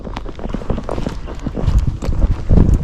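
A Tennessee Walking Horse's hooves thud and clop over uneven ground at a steady walking pace downhill, close by, with some rustling and movement noise mixed in.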